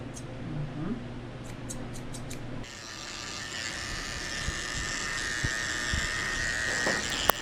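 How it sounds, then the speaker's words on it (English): Electric dog clippers fitted with a 40 blade buzz close up while shaving the paw pads of a Shih Tzu, Havanese and Yorkie mix dog, a steady whirring hum with a fan in the background and faint handling sounds. "I'm shaving out the bottoms of her feet with a 40 blade"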